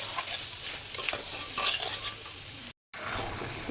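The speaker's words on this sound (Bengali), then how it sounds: "সয়াবিনগুলোও দিয়ে দিলাম, দিয়ে এখন কষাবো।" Soya chunks being stir-fried in a pan: a fairly quiet, steady sizzle with scraping stirs, and one brief cut to silence near the end.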